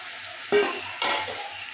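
Onions and tomatoes fry in a pan for a curry, giving a low sizzle with two brief stirring scrapes, close up and with no talking.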